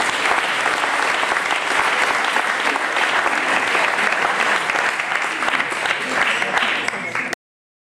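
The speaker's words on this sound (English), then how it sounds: "A round of applause for our at-large participants." Dense, sustained applause from an audience at a city council candidate forum fills the space, loud and continuous for several seconds before cutting off abruptly.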